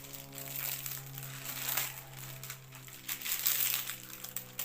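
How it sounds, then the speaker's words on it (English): Plastic film peeled off a Kaisercraft diamond painting canvas, giving a continuous crackling and crinkling that swells and fades over several seconds, with no voice. "I'm going to just help it relax a bit by pulling the plastic away."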